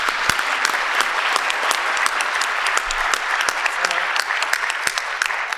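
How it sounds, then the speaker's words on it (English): An audience at a science policy conference session applauds the panelists after a discussion, with steady applause and sharp individual claps standing out from a moderately loud room. "A round of applause."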